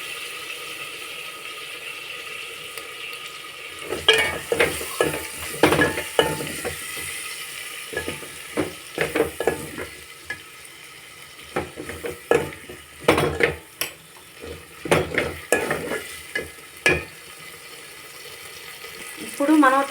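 Tomatoes are stirred into a frying potato curry in a pan, giving an irregular run of clattering spoon scrapes and bursts of sizzle, close by, with a quiet hum beneath and brief stretches of calm.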